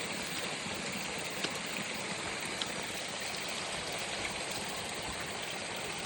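Steady rushing of a flowing mountain stream on the Appalachian Trail, continuous and fairly close, with no voices over it.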